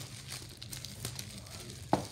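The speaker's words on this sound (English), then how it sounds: "Let's unwrap it." Packaging crinkles and rustles as a new Google machine is unwrapped nearby, with soft scattered handling noises and one sharper crackle near the end.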